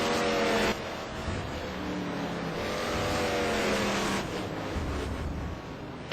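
Touring race cars from the STC Blue Cup 2010 round at the Algarve circuit roar past on track, big American machines on fresh tires; a loud, continuous engine drone with shifting pitch as several cars pass close by.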